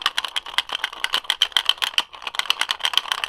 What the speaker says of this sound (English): So if you hear that, there's still ice in it.